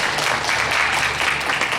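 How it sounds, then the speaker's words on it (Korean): A youth service congregation in a church claps in a brief, dense burst that stays loud and even throughout. "박수 한번 치고 갈까요?"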